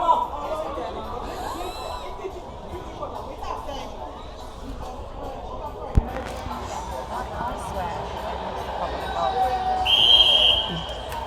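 A referee's whistle gives one short, sharp blast near the end at a men's netball match between England Thorns and USA, over steady crowd chatter and hubbub.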